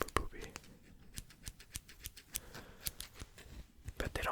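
Dark blue scissors make a run of light, crisp snips and clicks, close to the microphone and quiet, with soft whispering underneath.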